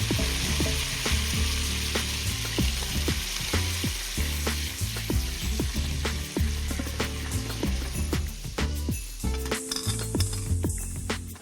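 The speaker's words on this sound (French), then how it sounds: "Déglacer ensuite la poêle avec un peu de jus de citron." Butter sizzles steadily in a pan as fish cooked meunière-style is deglazed with lemon juice, a loud continuous frying hiss with scattered clinks and scraping.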